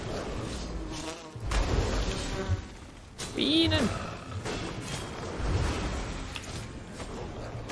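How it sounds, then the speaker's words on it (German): Bees buzz in the video game Enshrouded, a wavering insect drone that swells for a moment amid busy game sounds and background noise. "Bienen!"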